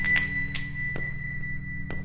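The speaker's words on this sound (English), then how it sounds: "she heard the bell toll." A shop doorbell rings in a horror audio drama, a bright bell tone struck a few times in quick succession over a low droning hum, clear and close.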